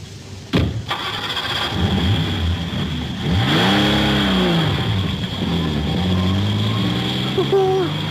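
A 1960s car engine turns over, catches and revs hard as the car pulls away, the pitch rising and falling through the gears, loud and near with voices talking over it.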